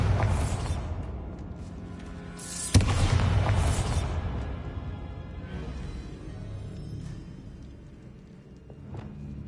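A Bombarda spell explodes in Hogwarts Legacy with a sharp, loud burst around the three-second mark, followed by a rumbling boom that fades over several seconds amid game ambience.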